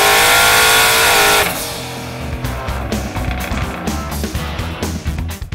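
A turbocharged Ford Mustang runs on a mobile dyno at the Carlisle Ford Nationals. The engine screams at high revs, then drops sharply to a lower, rougher rumble with fluttering bursts, loud and close, and no one talks.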